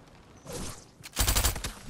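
Sniper rifle fire in Fortnite, a couple of sharp cracks with a dense burst of shots in the second half, loud and close.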